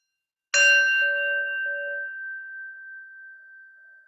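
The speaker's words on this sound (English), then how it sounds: "take in the sound of the bell" A single bell struck to open a gentle Kripalu yoga practice rings out once with a clear bright tone, then hangs and slowly fades over several seconds in an otherwise quiet room.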